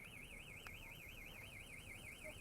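A car alarm wails in a fast, regular rising and falling siren tone, distant and faint but steady across the whole stretch.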